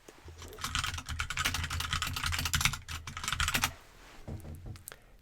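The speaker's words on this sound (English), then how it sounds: "now you see this keyboard right here, it's a wireless keyboard" Rapid, close clicking keystrokes on a wireless computer keyboard in busy bursts, then slowing to a few scattered taps near the end; no talking.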